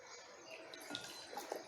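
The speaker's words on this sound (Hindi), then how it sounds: "ये मैंने इसमें सादा पानी डाल दिया" Plain water poured into a toilet bowl during a home-care toilet cleaner demonstration, a soft close splashing and trickling with a few brighter drips, steady and moderately quiet.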